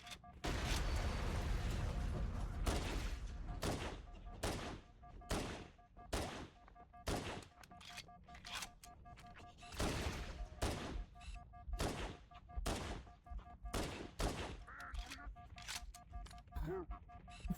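Gunfire in the Halo: Combat Evolved video game comes as a dense, loud volley of repeated shots and booms, with rapid bursts and single cracks over a steady tone.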